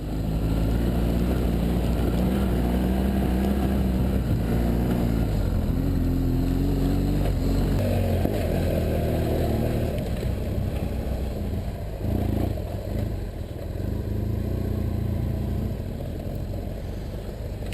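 BMW F800GS and HP2 motorcycles ride off-road trails, their engines droning loudly and close throughout, with revs rising and falling as they climb and change gear, alongside heavy wind buffeting.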